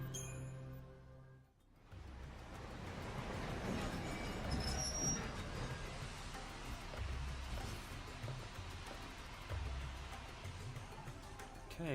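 A train ride in Lightning Returns: Final Fantasy XIII starts after a short quiet moment, then steady rolling rumble and clatter carry on with faint high squeals and rhythmic low thumps.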